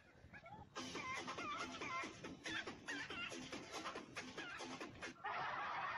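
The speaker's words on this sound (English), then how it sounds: "Is that chicken?" Chickens clucking and cackling close by, a busy run of repeated squawky calls that starts abruptly and continues for several seconds before giving way to a broader noise.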